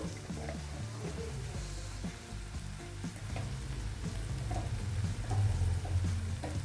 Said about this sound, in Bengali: খুব ভালো করে আমি নাড়িয়ে নেব এইভাবে মশলাটাকে আমি খুব ভালোভাবে কষিয়ে নেব